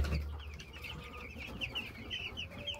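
Meat chickens cluck continuously in a crowded pen shared with meat ducks, around 65 birds together, a busy chattering flock heard up close with no talk.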